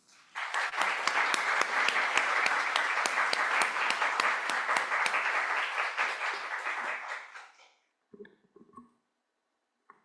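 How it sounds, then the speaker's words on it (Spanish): Audience applause at an international seminar, a loud sustained burst of many hands clapping that swells for about seven seconds, then tapers and stops, leaving a few scattered faint sounds. "quiero que la recibamos con un fuerte aplauso y con mucho cariño"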